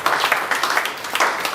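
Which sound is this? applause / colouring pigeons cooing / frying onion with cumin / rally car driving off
applause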